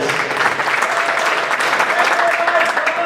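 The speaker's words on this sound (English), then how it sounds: "How about a nice round of applause" A crowd claps and cheers in sustained applause for a driver being introduced at a car race, steady and fairly loud throughout, with a busy outdoor murmur underneath.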